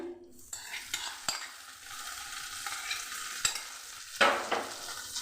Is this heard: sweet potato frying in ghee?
yes